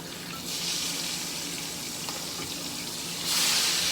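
Pork chops sizzling steadily in a hot pan, a continuous bright hiss that swells louder near the end as the meat is flipped, with no voices.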